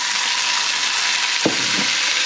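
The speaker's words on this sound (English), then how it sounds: "Got the sizzle." Pad krapow, with oyster sauce and sugar, sizzles steadily in a hot frying pan, a constant bright hiss with one brief clink of a utensil partway through.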